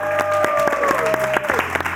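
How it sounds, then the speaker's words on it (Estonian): A studio audience at the Estonian quiz show Kuldvillak applauds the players, a brisk burst of clapping with tonal music or a held note running beneath it. "Teeme veel aplausi mängijatele, teeme aplausi väga heale publikule."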